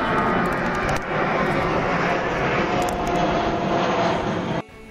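Airplane flying low over a church near Poznań airport, a loud sustained engine roar filling the whole stretch with steady broadband rumble before cutting off near the end; no one talks over it.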